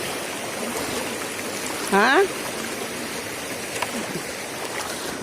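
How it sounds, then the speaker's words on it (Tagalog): A mountain stream being crossed on a rural outing, rushing as a steady broadband wash of flowing water throughout, with a brief spoken exclamation partway through. "Tabok na ng sapa."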